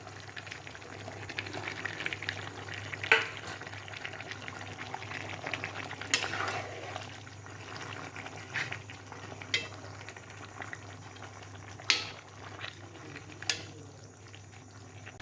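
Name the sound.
tomatoes cooking in kadai for Chettinad pepper chicken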